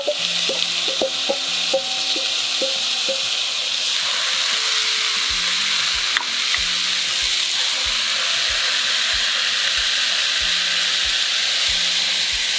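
Celery, shiitake and shimeji mushrooms stir-fry with chili and seasoning in a hot pan. A loud, steady sizzle fills the clip, with a scatter of utensil taps early on and a regular clicking scrape of stirring later.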